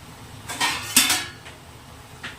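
A lid set onto a pan of frying okra: a short metallic clatter and clink, one main knock followed by a lighter rattle, close by with no talking.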